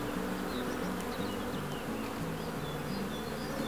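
A steady, dense drone of many honeybees buzzing close by at an apiary with wooden hives, with wavering pitches layered over a constant hum.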